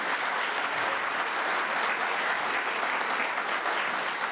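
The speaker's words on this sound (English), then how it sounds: "how about some round of applause for them" Sustained audience applause for a school music group at a spring concert, dense, steady clapping from a crowd lasting the whole stretch without letup.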